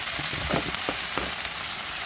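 Sponge gourd stir-fried in a pan with garlic, dried shrimp and beaten egg, giving a constant loud sizzle with a few faint stirring scrapes and no speech.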